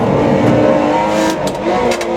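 A Porsche Cayman GT4 Clubsport race car engine in a racing simulator roars loud and close, revving steadily with rising pitch as it accelerates out of a corner.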